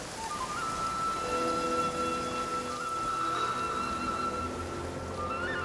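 Steady video-game rain pours down continuously, a dense hiss of droplets with faint tonal hums underneath, no voices.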